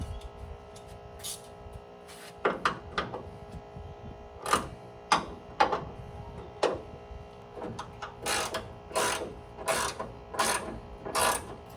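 Bolts on a classic Ford Mustang trunk lid tightened with a hand tool; a series of crisp ratcheting clicks in short bursts, close and alone, spaced irregularly over the span.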